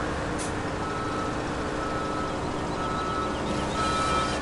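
Reversing beeps from a vehicle in Farming Simulator, a steady engine drone with a faint tonal beep entering near the end, no voices.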